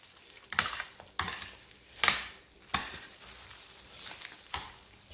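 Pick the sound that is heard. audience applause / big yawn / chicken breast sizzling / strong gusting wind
chicken breast sizzling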